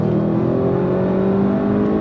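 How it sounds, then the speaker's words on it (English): A 2025 Audi RS7 engine drones loud and steady at high revs from inside the cabin, a continuous throaty hum with little change in pitch and no distinct shift breaks. "Fast downshifts, fast upshifts."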